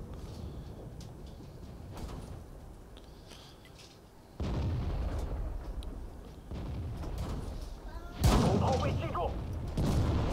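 Tank cannon and artillery fire from the World of Tanks video game, with a Chinese 112 tank under attack, sound as several deep booms and bursts, the loudest near the end, over a steady game background.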